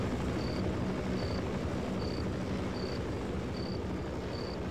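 Helicopter in the game They Hunger, a constant low rotor rumble and engine hum steady and fairly quiet, with a soft high beep repeating at regular intervals.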